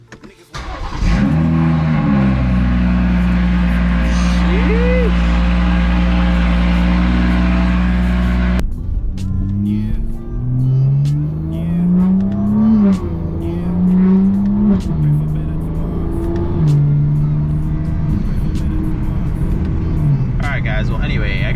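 BMW 340i accelerating on the road, heard from inside the cabin: a loud engine drone rising in pitch, then a change to gear-shifting revs that climb and fall repeatedly under road rumble.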